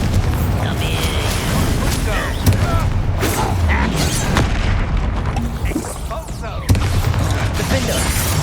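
Confringo spell explosions in Hogwarts Legacy erupt in a chaotic battle, a string of booming blasts, pops and clanking impacts layered densely over several seconds, loud and close, with a voice shouting among the noise.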